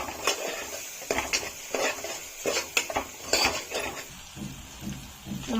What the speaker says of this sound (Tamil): கொஞ்சம் நேரம் எண்ணெயில் இந்த மசாலாலாம் இதாகட்டும்